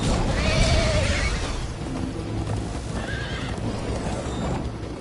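A horse in Minecraft: Story Mode neighs loudly near the start, then hooves clip-clop along with a second, fainter whinny under a steady background.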